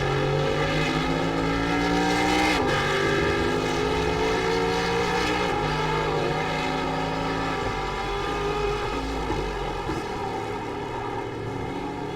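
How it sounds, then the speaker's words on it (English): A steady, droning engine roar with shifting harmonic pitch from a Kia race car in the iRacing video game at Daytona, passing close by as it laps, continuous throughout with no voices. "here comes the car coming to lap us"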